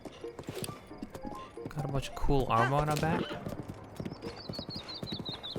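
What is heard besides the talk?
horse clip-clopping, from the video game Zelda: Breath of the Wild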